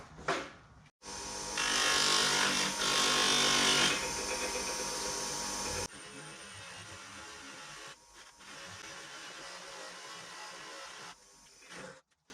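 Grinder buffing wheel polishing aluminum parts with white rouge: a loud, harsh whirring grind for several seconds, then the motor keeps running at a steady, quieter hum with brief dips, and no talking.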